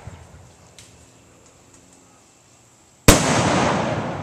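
Rain shell firework outdoors: after a few seconds of quiet with faint background noise, a single sudden, very loud explosive burst crackles and decays over the last second.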